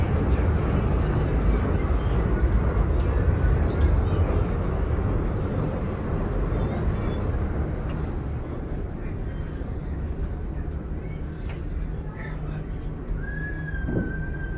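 Loud, steady low engine roar aboard the passenger ship KM Tidar, a continuous dense rumble that fills the whole stretch with no breaks, close and heavy, with a faint tonal whine rising near the end.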